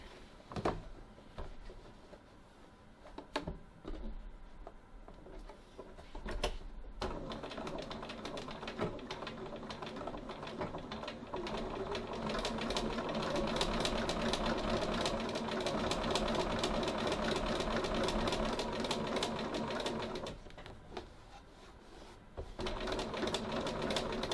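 Sewing machine back tacking stitches on a pocket, with a rapid mechanical whir that starts and stops in short bursts before settling into a longer steady run, close and clear.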